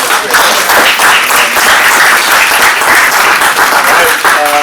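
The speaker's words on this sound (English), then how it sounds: "let's give them a round of applause" A dense round of audience applause at a 1 Million Cups startup pitch event in Virginia Beach, loud and sustained, with some voices mixed in toward the end.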